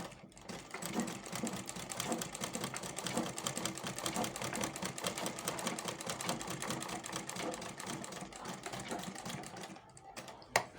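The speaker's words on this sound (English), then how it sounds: "I'm going to sew it to the edge of the fabric." Sewing machine stitching a bag's side pocket onto the edge of fabric, a steady fast mechanical whir and needle clatter running continuously, close and alone, stopping abruptly near the end.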